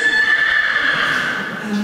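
A horse neighs loudly and close by in one long whinny that slowly fades over nearly two seconds.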